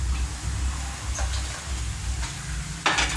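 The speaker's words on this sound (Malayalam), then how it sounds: "ഇനി നമുക്ക് ഈ കറി ഈ ചട്ടിയിലോട്ട് ഒഴിച്ചു കൊടുക്കാം" Curry is poured into a chatti over a low, steady sizzling and stirring hiss, with a short louder splash near the end.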